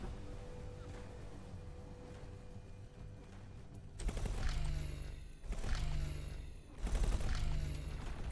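Ship turrets in the space game X4 open fire in three heavy bursts of rapid, crashing gunfire, loud and close, each burst lasting about a second or more, over a quieter low hum.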